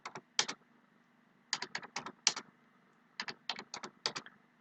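Computer keyboard keys click in quick, crisp bursts of several strokes each, separated by short pauses, close and fairly quiet.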